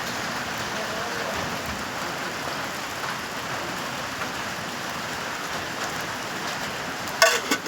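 Steady rain falls as a continuous hiss, with a brief clatter near the end.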